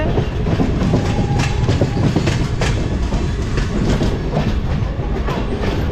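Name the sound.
train running on rails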